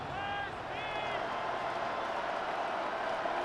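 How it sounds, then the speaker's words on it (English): A stadium crowd roars during a 49ers vs Seahawks game in Madden 26 on PS5, a continuous mass of cheering with a brief whistle-like tone near the start, and no talking over it. "This crowd doing all they can."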